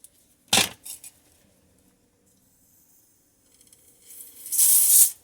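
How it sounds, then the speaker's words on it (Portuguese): Corrosion X HD aerosol is sprayed onto a drone's camera connector in two quick, close hissing bursts, followed by a pause and then a longer, stronger spray near the end, with no talking. "no conector da câmera eu vou jogar o spray"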